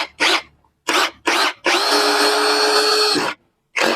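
A KEPU 16V brushless drill drives a 5 cm screw: three short whirring bursts, then a longer sustained whine of about a second and a half as the screw goes in, followed by a final quick burst, loud and close.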